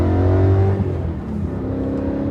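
A BMW E92 M3 collector car's engine runs loud and close while driving after sitting for weeks, a strong steady drone whose pitch sags and then settles into a lower, even hum.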